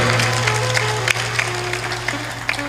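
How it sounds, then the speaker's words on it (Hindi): An audience claps steadily at a religious discourse, a dense continuous patter of many hands that holds at an even loud level for a few seconds, with no talk over it. "हाँ, अब की ताली लगाया है तुमने।"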